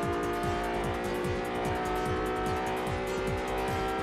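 A racing car in the video game Test Drive Unlimited on PS2 drives hard, its engine giving a steady high whine with rapid rhythmic pulses and tires squealing underneath, loud and close throughout with no voices.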